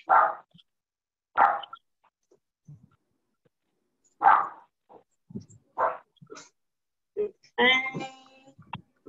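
A dog barks several times during an online meeting, sharp single barks spaced seconds apart over near silence, ending in a longer yelping or whimpering call.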